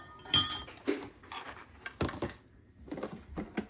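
Utensil stirring sesame oil and sugar in a bowl for beef chow mein, giving a few separate clinks and scrapes against the dish with quiet gaps between them, close and moderately loud, with no one speaking.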